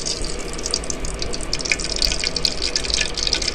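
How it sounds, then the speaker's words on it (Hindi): A cup of cooking oil poured into a kadhai for chicken korma, a steady close splashing pour that runs continuously without a break. "हमने कढ़ाई चढ़ा दी है, अभी हम डालेंगे 1 कप तेल।"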